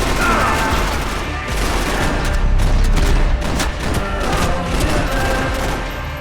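Grenade explosions and sustained gunfire in the Max Payne 3 video game, a dense, loud, continuous barrage of shots and booms with no talking.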